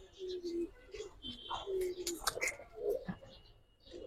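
Pigeons in a loft, fancy breeds kept by a keeper, cooing softly at close range in several short, low murmuring calls mixed with faint chirps, with no talking.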